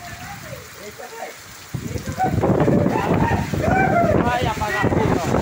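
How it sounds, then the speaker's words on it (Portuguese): Heavy downpour falling in Ceará, Brazil, a dense hiss of rain that jumps louder after a quiet start and keeps pouring close by, with someone talking excitedly over it. "E vem aí, tá caindo toró."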